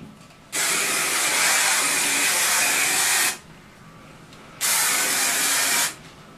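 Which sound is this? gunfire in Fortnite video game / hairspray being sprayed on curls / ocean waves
hairspray being sprayed on curls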